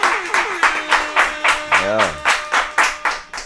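A few people clapping in unison during a podcast recording, about a dozen sharp, evenly spaced claps close by, with a brief spoken interjection partway through.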